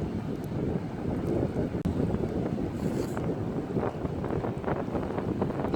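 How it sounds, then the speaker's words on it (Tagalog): Strong wind blowing at a seashore beside a house, roaring and buffeting the microphone in a continuous rough rush with faint surf mixed in, no voices. "Lakas talaga ng hangin."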